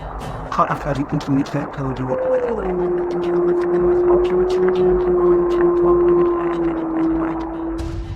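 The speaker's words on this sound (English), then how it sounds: "A lone wolf's howl pierces through their conversation" A lone wolf's long, sustained howl rises and holds steady outside a tent, with a fainter higher tone joining midway, over a background of voices and rustling.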